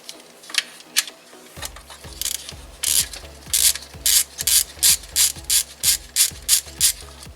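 A ratchet wrench loosens a 12mm nut on the oil pump of a Kia 1.8/2.0 engine, giving a run of rapid, evenly spaced clicking bursts that grow louder and more regular as the nut turns, close up with no talk.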